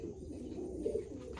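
A pigeon offered for sale gives a soft, low coo, a couple of brief murmured pulses near the middle, faint and close against quiet background.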